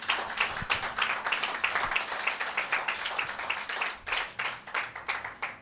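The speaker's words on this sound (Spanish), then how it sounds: "Den un aplauso fuerte al Señor." A church congregation claps loudly and rhythmically in unison, a steady pulsing applause held for several seconds with no voices over it.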